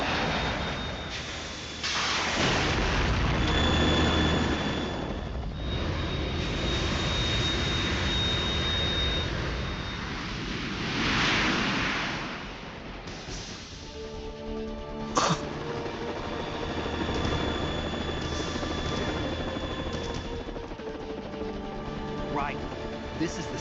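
A Harrier jet roars in the Metal Gear Solid 2 video game, with a sustained engine drone under character voices and game effects.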